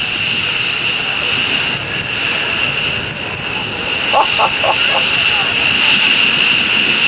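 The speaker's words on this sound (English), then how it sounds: "give Sword a wave as he taxis by" A military jet taxis past at an air show, a loud steady engine whine and roar held throughout, with a brief faint clatter partway through.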